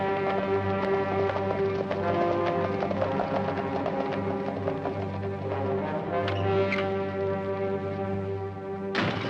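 Rhythmic hoofbeats of horses galloping along a road, heard beneath a steady, swelling orchestral drone.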